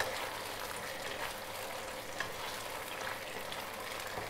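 Chicken Manchurian with spring onion being stir-fried in a pan, a continuous close hiss and crackle of frying with faint scrapes of stirring throughout and no voices.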